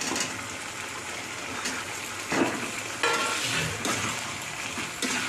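Paneer pieces fry in a pan while being stirred, giving a continuous close sizzle with repeated scraping strokes across it and no speech.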